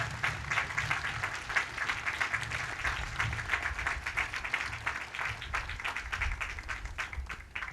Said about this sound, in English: Let's give them another nice round of applause for joining us.